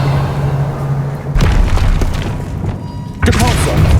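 A Revelio spell is cast in the Hogwarts Legacy video game, sounding as two heavy booming thumps a couple of seconds apart over a low, steady game background.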